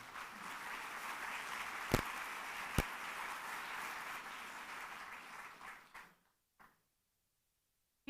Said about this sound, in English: Keep the rounds of applause, please.